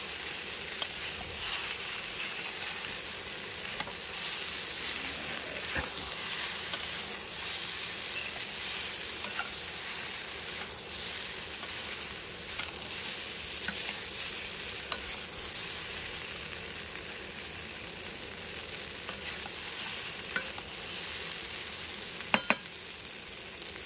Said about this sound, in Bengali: এইভাবে বাড়িতে পিঠেটা ভাজবেন